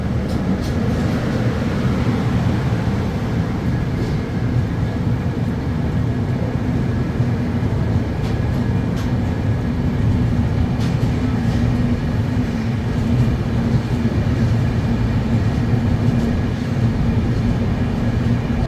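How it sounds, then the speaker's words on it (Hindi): Steady low rumble of the 12219 Mumbai LTT to Secunderabad Duronto Express as it departs Mumbai LTT, heard from inside a 2AC coach, continuous and loud with no talk. "डिपार्चर हो गया हमारी ट्रेन का और हम चल दिए हैं मुंबई एलटीटी से"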